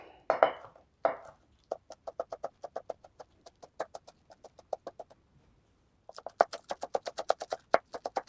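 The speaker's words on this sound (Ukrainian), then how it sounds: "І тепер дрібненько поріжу всю зелень" A knife finely chops green onion and herbs on a board in a home kitchen, making steady, close, rhythmic taps that pause briefly midway and then resume at a brisk pace, with no talking.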